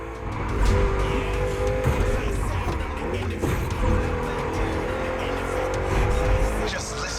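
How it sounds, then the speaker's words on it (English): A V8 car in the racing game The Crew Motorfest, its engine growling loud and close with shifting revs, while tires squeal and skid over a constant roar through the whole run; no voices. "Just listen to that V8 like a chunky, down-tuned guitar riff."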